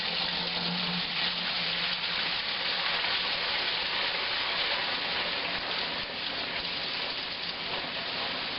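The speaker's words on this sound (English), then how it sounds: "I pour it from up high so that way it gets nice and aerated as it goes in." A steady, continuous pour of home-brew beer wort from up high, splashing and hissing through a sieve, loud and close, running without a break.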